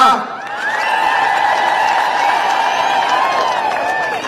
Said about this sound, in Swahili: Mnajua ngemi na vigelegele.